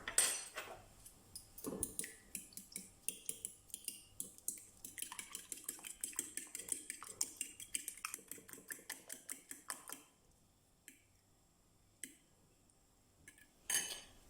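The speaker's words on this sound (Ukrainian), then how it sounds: "До яєць додаємо трішки солі і збиваємо вилочкою до однорідності." A fork beats eggs with a pinch of salt in a bowl, giving rapid, light metallic clinking and tapping for about ten seconds before it slows to a few scattered clicks, close up and without speech.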